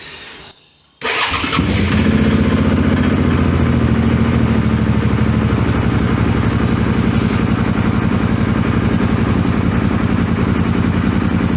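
An engine cranks over and catches after a brief silence, then settles into a loud, steady, even idle that runs without a break, close by and with no one speaking.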